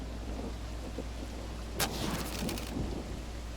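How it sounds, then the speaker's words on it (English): Rain and a thunder crack in the video game The Oregon Trail (2022), with steady rainfall throughout and a sharp, loud thunder burst partway through followed by rumbling. "It's the rain."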